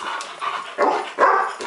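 Several dogs bark and yip in short bursts indoors, with two louder, closer barks near the end standing out above the rest.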